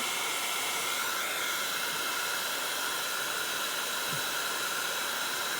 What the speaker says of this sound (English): then we'll just give it another go of the gun